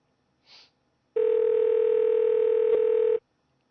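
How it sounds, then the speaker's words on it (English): Ringback tone of an outgoing telephone call: one loud, steady, unbroken tone lasting about two seconds, heard alone after a brief faint blip, with no talk. "It's ringing."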